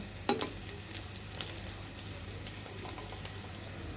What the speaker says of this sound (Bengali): এভাবে বারবার উল্টিয়ে পাল্টিয়ে কুর্তাগুলো ভেজে নিব